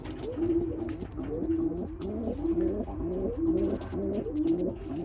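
Roller pigeons coo in a breeding pen, a repeated rolling, throaty call in steady bursts close by, with faint background noise and no talking.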